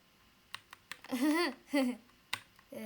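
A handful of sharp computer-keyboard clicks, scattered and irregular, close by, broken up by short voiced murmurs in between.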